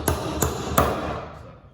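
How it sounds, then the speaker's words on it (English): Three sharp, evenly spaced hammer blows driving small 8-penny nails into wood. Each is a crisp, close metallic tap with a short ring that fades afterward. "And these little 8 pennies, they just drive so easy."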